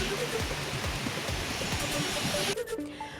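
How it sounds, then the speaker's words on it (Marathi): Monsoon rain falling in parts of Kankavli and Kudal in Sindhudurg, a dense steady hiss of drops with faint lower patter, thinning abruptly near the end. "दडी मारलेल्या पावसाची सिंधुदुर्गच्या कणकवली आणि कुडाळमधील काही भागामध्ये हजेरी"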